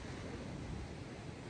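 Ocean waves wash below a terrace at Serande Beach Resort at sunset, a faint, steady, distant rush of surf mixed with light wind noise and no voices.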